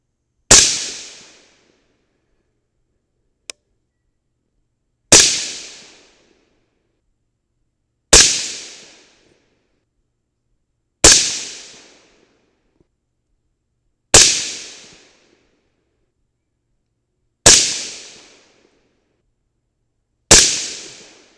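Seven sharp rifle reports from 5.56 rounds loaded with 69 grain Sierra MatchKing bullets, spaced about three seconds apart, each loud and close with a quick decaying tail, plus one small click between the first two shots; no talking.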